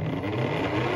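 A 120-watt electric motor spinning up on only a 5 µF run capacitor, a steady close hum and whir with a rising tone over about a second, no voices.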